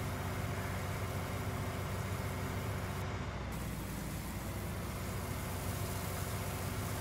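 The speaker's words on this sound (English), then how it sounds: "you can hear the engine revving every time we add a pallet in" Tractor engine in Farming Simulator 19 on a farm map, a steady close mechanical drone and hum running continuously at an even level throughout, with no talk.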